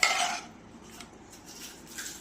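Chickpeas for masala poori drop into a bowl of crushed pani puri shells with a brief clatter against the dish. Softer faint scraping and handling follow.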